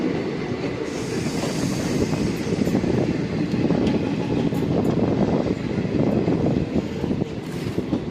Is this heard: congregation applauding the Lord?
no